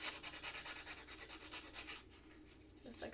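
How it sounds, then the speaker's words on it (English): Sandpaper rubbed back and forth on the end of a metal tube to remove burrs, about a dozen quick rhythmic scratchy strokes, faint and close, then a softer scrape. "If you have any burrs on that tube, easy enough, just pull out some sandpaper."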